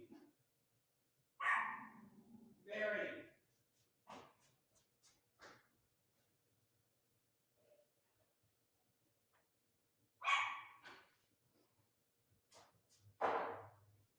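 A dog barks repeatedly at close range, sharp single and paired barks separated by quiet gaps, with a brief spoken word in between.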